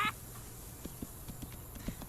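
A donkey's hooves clip-clop in a steady, faint rhythm of soft evenly spaced knocks over a quiet background, with no talking.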